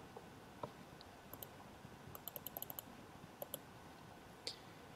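Quiet, close computer keyboard typing, with bursts of soft key clicks in irregular runs and brief pauses between them, no voices.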